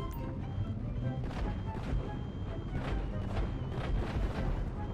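A GTA 5 in-game explosion bursts as a dense, rumbling crash, followed by repeated booming thuds and debris rattle over roughly five seconds, moderately loud and continuous without clear speech.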